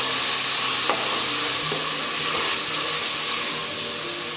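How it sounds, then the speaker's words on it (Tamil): Tomatoes fry in a pan for egg masala pasta, making a loud, dense, hissing sizzle that runs steadily from start to finish, with faint clinks of stirring underneath. "கலக்கி விட்டுக்கலாம்."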